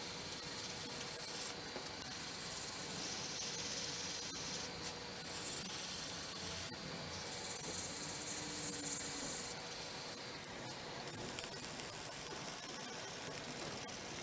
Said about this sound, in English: So we'll sand it out.